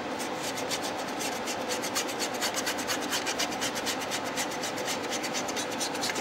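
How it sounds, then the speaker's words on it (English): A paintbrush scrubs weathering paint onto a model covered hopper in quick back-and-forth strokes, a soft, close, rhythmic rasping that continues steadily on its own. "I'm using kind of like a scrubbing motion on the brush here to really work it in"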